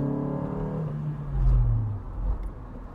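An MG MGF sports car with Rover's VVC variable valve timing engine revs on a real road, a loud rising then falling engine note over a few seconds with no talking.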